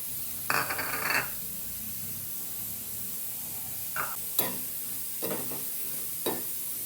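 Vermicelli being fried in ghee in a pan gives a faint low sizzle, broken by a few short scraping and clinking stirs of a spoon against the metal.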